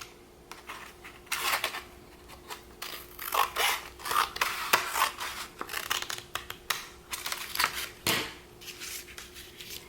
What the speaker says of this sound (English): Your first step is to cut the center out of the first paper plate.